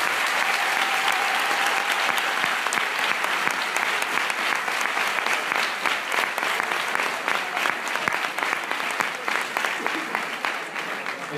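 Applause from a lecture audience at a political talk on Marxism: a steady, dense clapping that carries on and thins slightly toward the end, with a faint voice briefly audible beneath it.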